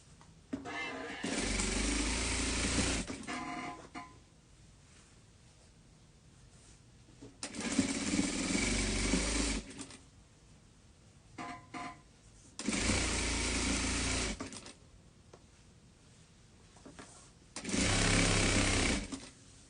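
A sewing machine topstitching a seam on fabric runs in four loud bursts of rapid mechanical whirring, each lasting a few seconds, with quiet pauses between them and faint talk in the gaps.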